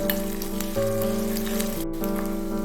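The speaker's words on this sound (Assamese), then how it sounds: "এইখিনি আমি অকণমান ভাজি ল'ম" Ginger-garlic paste sizzling in a pan of onions already browned, for a paneer chilli masala, a steady close frying hiss with a faint droning tone underneath and no talk.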